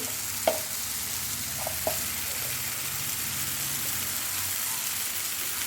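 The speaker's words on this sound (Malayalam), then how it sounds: "അതെല്ലാം കൂടി നല്ലോണം മിക്സ് ചെയ്യുക നല്ലോണം വഴണ്ട് വെച്ചേ" Chicken masala spices sautéing and being mixed in a pan: a steady close sizzle and hiss throughout, with a couple of faint spoon taps near the start.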